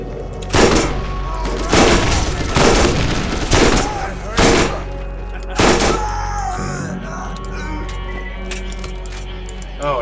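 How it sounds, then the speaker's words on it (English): Burst-fire gunshots from a weapon in Borderlands, several loud rapid volleys in quick succession over the first six seconds, then fading into ambient game noise. "Oh, it's a burst fire."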